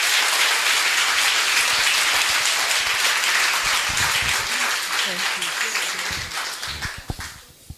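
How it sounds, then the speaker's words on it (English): Sustained dense applause from an audience at an outdoor bench unveiling honouring Harry Belafonte, loud and steady before thinning into scattered claps toward the end. "Please give a round of applause to Adrienne Belafonte Biesemeyer."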